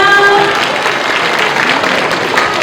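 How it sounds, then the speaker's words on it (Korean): Audience applause follows a band's performance at a high school admissions information session, a dense steady clatter of many hands filling the whole stretch at full loudness, with faint crowd murmur beneath. "박수 한번 부탁드릴게요"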